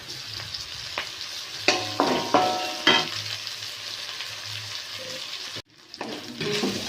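Prawns sizzle and fry in a pan, punctuated by sharp clinks and scrapes of stirring, with a brief pause near the end.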